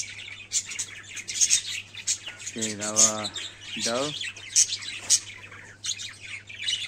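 Green ring-necked parrots chirp and squawk in quick bursts, with a couple of louder harsh calls standing out nearby, while a person talks over them.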